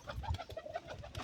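Pigeon cooing close by, a few soft low throaty coos in a short run, with faint rustling around the bird.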